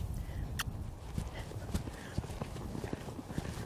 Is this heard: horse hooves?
yes